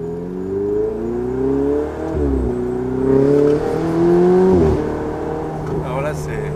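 A Ferrari 488 Spider twin-turbo engine revs hard as the car accelerates through the gears, its pitch climbing in repeated surges with a dip at each shift, heard loud from inside the cabin.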